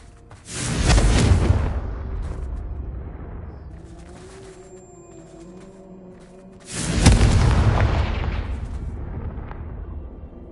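Two loud, deep blasts from a Confringo explosion spell in a video game, several seconds apart, each a heavy boom that rolls into a long rumbling decay.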